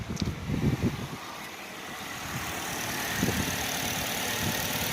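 2008 Pontiac G6 car engine idling at a steady low rumble, fairly quiet and close, with a few faint knocks early on and no talking.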